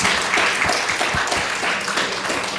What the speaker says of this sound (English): I want to give Dr. Judith Rosenbaum another round of applause.